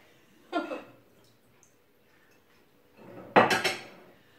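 Dishes being washed by hand: two separate bursts of clattering pots and clinking cutlery, close and fairly loud, with quiet pauses between and no speech.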